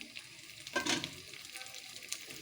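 Hog plum (amra) pickle cooks in a pan with a soft, faint sizzle and a brief stirring scrape near the start, quiet and close.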